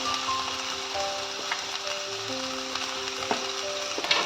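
Finely chopped onions in hot oil for chicken fry give a soft, steady sizzle, close and moderate, with faint clinks and light tonal background hums and no voices.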